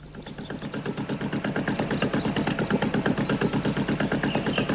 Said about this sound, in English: They were interrupted by the sound of Terence the tractor.